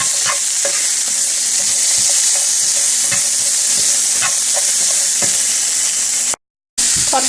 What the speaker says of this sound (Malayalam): സവാള ഇട്ടിട്ട് നന്നായി ഒന്ന് സോട്ട് ചെയ്ത് കൊടുക്കാം.